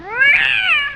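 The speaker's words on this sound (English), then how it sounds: "up to and including my cat, Little Shat" A pet cat named Little Shat gives a single loud, close meow that rises then falls in a drawn-out, tonal cry lasting about a second, alone with no other sounds.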